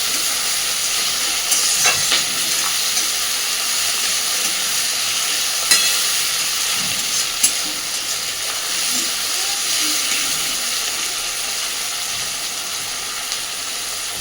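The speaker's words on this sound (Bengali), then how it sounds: "সুন্দরভাবে এবার এগুলোকে একটু ভেজে নেব।" Onions, tomatoes and chopped chilli fry in a pan for chicken kosha, a Bengali chicken curry, giving a steady hiss and sizzle with occasional stirring scrapes, continuous and close, without talk.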